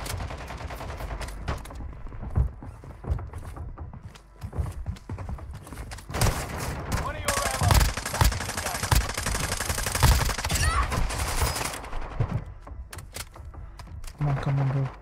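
Gunfire in Warzone Mobile, repeated sharp shots and bursts throughout, some heavy and close, mixed with footsteps and game noise while players talk over it.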